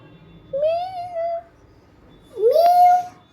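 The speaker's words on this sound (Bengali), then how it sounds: "ক্যাট, ক্যাট কেমন করে ডাকে?" A cat meows twice, each call long and drawn out, rising and then holding a steady tone, fairly close and clear against a quiet background with a short pause between the calls.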